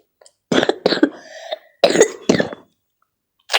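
Several harsh, close coughs come in two bursts with a short pause between, followed by one more brief cough at the end.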